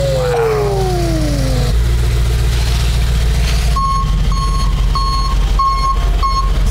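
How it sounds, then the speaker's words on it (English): A tow truck reverses outside, its loud, regular beeping alarm repeating over a rumbling engine. Before the beeps start, an engine revs and whines down. "So we got a tow truck right outside. We're gonna tow away the car."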